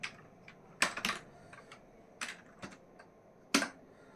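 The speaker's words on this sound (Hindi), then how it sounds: "यहाँ मॉडल लेआउट में ही टाइप करेंगे MV सेटअप" Fingers type on a computer keyboard while entering commands in AutoCAD, with crisp, irregular keystrokes and short clusters of taps over a quiet background hum, and no talking.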